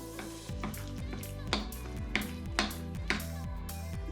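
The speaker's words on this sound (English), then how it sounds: "Then we're going to stir again, mix it all together." A spoon stirs gluten-free chocolate chip peanut butter muffin batter in a bowl, a soft rhythmic scraping with regular light knocks against the bowl, quiet and close, with no talking.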